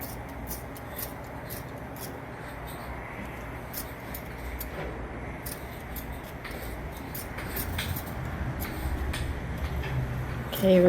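Scissors snip and rub steadily while trimming new carpet inside a 1977 Pontiac Trans Am, a continuous close scraping texture with small clicks throughout and a slightly louder burst at the end.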